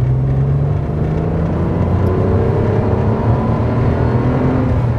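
Renault Clio V6 255 Phase 2 engine accelerating from inside the car, a loud continuous engine drone with rising tonal harmonics as the revs climb, heard alone without talk.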